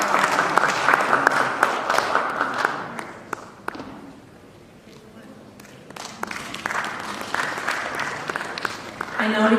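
Conference attendees at a panel on IP, technology, data and AI clap for the panelists. Brisk applause with crisp individual claps fades to a near-quiet lull midway, then builds up again, and voices are mixed in.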